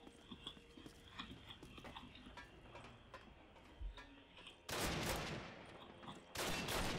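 MG42 machine gun fire in the Call of Duty video game: quiet game ambience with faint ticks, then two loud sustained bursts of rapid fire, the first lasting over a second and a half, the second near the end.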